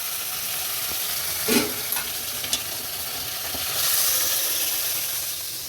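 Onions and curry leaves frying in oil for a goat head curry, a steady close sizzle with a few brief stirring scrapes and a swell of hiss near the end, no voices.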